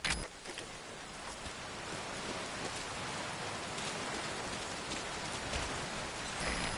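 Heavy rain in the Metal Gear Solid V video game, a steady dense hiss of downpour on surfaces that holds at an even level from start to finish without pause.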